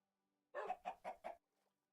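A chicken in a video game clucks four times in quick succession, short clear rhythmic calls, isolated and fairly faint against silence.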